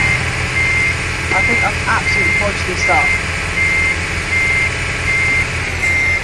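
Truck reversing beeps in Euro Truck Simulator 2 sound as a steady, repeated high electronic tone over a constant engine drone, with someone talking throughout.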